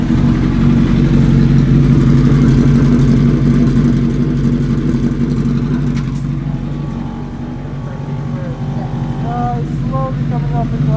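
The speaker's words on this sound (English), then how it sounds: "Okay, I'm gonna start the car." A loud F1 race car engine starts and runs steadily with a deep rumbling idle and a rough, buzzing tone, revving slightly and staying close throughout.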